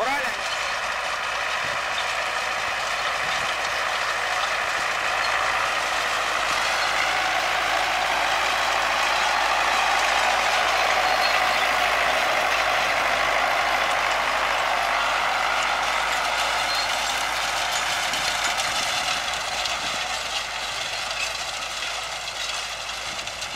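An MTZ-80 tractor pulling an SZ-3.6 seed drill while sowing a grass and oat mix for hay, a steady loud mechanical roar with rattling, whirring drive noise that holds constant throughout.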